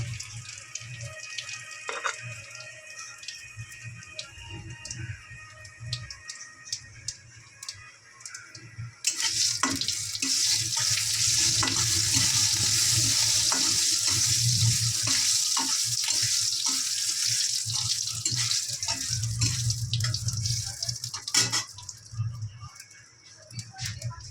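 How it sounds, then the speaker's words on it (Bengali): Cumin seeds and two dried red chillies sizzle in hot oil for a dal tempering, a steady bright crackle that swells loud and continuous midway and holds for several seconds, with kitchen clatter around it and no speech. "ফোড়নে দিয়ে দিলাম জিরে, দুটো শুকনো লঙ্কা"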